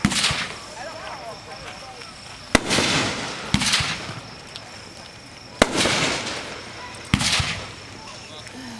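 Mammoth Brocade aerial fireworks bursting outdoors, four loud sharp cracks each followed by a long crackling, hissing brocade trail, with faint voices and background chatter between bursts.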